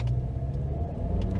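A Mazda CX-30 accelerates hard on medium slippery snow after a sliding stop, giving a steady, close low engine and road rumble that holds through the whole moment with no talk.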